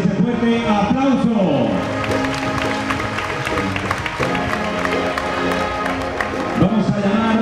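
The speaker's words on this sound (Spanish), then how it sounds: "Y ese fuerte beso y ese fuerte aplauso." A spring fair crowd applauds as the third lady of the festival receives her sash and flowers, steady clapping from many hands under a loud, reverberant mix of voices and music-like tones, lasting throughout.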